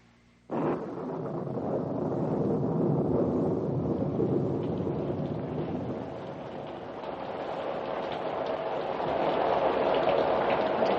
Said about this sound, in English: Terrible downpour.